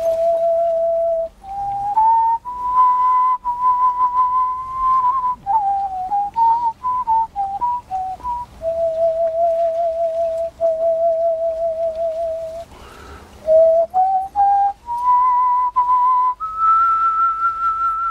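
A single person whistles a melodic tune solo, clear pure notes stepping up and down in phrases with short breath pauses, close and fairly loud.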